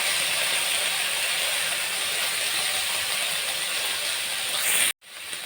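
Ginger garlic paste sizzling in a pan over a low flame, a steady loud hiss and crackle running without a break until it cuts off abruptly near the end.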